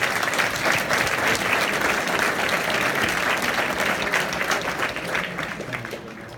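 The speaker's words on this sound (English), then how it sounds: "Let's give these guys a round of applause." Steady round of applause from a banquet audience at a football awards dinner, many hands clapping in a continuous dense patter that holds strong before gradually thinning and fading toward the end.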